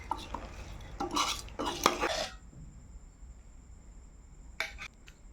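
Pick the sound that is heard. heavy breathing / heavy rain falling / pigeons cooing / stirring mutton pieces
stirring mutton pieces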